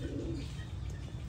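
Large American giant pigeons coo in low, soft, rolling calls, fairly close, with a faint chirp or two in the background.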